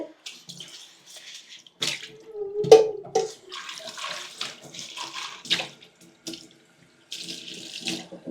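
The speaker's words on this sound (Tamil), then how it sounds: "அவங்களுக்கு தண்ணி வைக்கிற பாத்திரம் இதே கழுவிச்சது" Water runs from a tap in bursts while a cat's water bowl is rinsed and handled beneath it, with splashing and light clatter close by.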